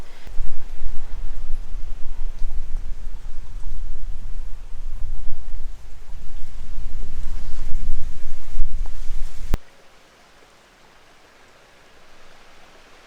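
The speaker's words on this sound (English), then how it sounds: "the only thing you can really hear out here is the wind and the animals." Steady wind rushes and buffets beside a pond at a desert spring picnic spot, loud and broadband for several seconds, then cuts off abruptly into near silence with only a faint breeze returning.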